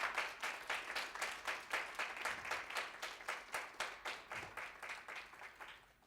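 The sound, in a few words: audience round of applause after a presentation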